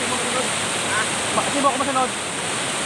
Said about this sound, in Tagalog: Yan po, dito po kami ngayon sa falls. Isang maganda pong falls dito sa may barangay